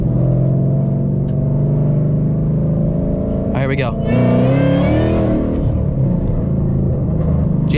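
Loud supercharged car engine revving inside the cabin with the windows up, a steady low rumble rising into a rev around the middle with a thin whine on top, while someone talks over it.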